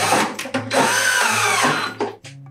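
Power drill driving screws into a backing board during installation of a microgreen growing unit, several close whirring bursts separated by short pauses.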